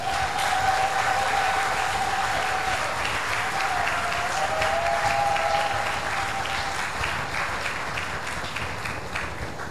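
A church congregation at a Sunday service applauds steadily for several seconds, a dense, even wash of many hands clapping with a faint sustained tone running underneath.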